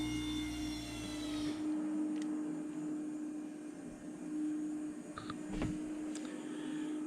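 Electric power window motor in a Nissan R32 GTR whirring steadily as the glass lowers, a close continuous drone with a low hum and a few brief clicks, no talking.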